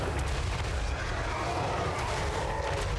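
Screaming plague bombardment from the Plague Lord's wrath in the strategy game Total War: Warhammer 3, with Soul Grinders shelling the defenders: a continuous dense roar of artillery-like blasts and rumbling impacts, loud and sustained without pause.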